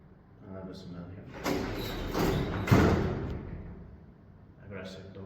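Doors of an old, updated traction elevator in a Šeškinė apartment block slide open and shut, with a few thuds and rumbling bursts in the middle, while people talk nearby.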